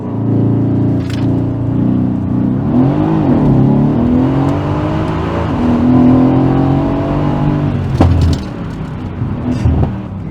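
Mercedes C63 AMG W205 launching hard in Sport 1, the engine holding a loud, rising rev as it gathers speed, close and continuous, with a brief lift near the end.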